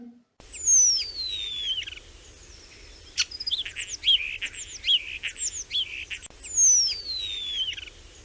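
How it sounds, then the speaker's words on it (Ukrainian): Several birds chirp and sing in bright, rising and falling whistles and short tweets, fairly close, with a soft steady background hum underneath. "Заспівали пташки, радіють сонечку."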